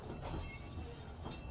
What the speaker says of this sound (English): It was also really fun watching all the passing trains pass us while we were on the line.